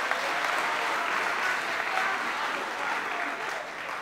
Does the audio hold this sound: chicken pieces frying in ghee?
no